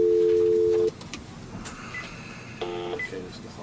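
A single long steady telephone keypad tone sounds loud at the start, then stops; a few short fainter beeps follow amid quiet room noise on a studio phone.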